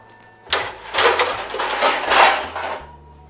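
Metal 9-inch cake pans being handled and shuffled in a kitchen, a continuous rattling, scraping clatter lasting a couple of seconds, close and fairly loud, with no talking.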